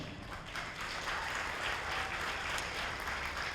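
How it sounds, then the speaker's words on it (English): Audience applause for 4-H seniors at a livestock expo and auction, a dense, steady wash of clapping at moderate distance with no voices over it. "Give him a good round of applause, all right?"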